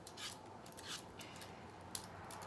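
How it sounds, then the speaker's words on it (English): Apples being roughly peeled by hand for an apple pudding in a home kitchen, giving soft scraping and rasping strokes in a loose rhythm, close and quiet, with no talking. "so just roughly peel them,"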